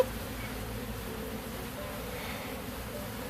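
Honeybees from a hive built inside a box, disturbed during removal, make a dense, continuous, close buzzing swarm drone that holds steady throughout.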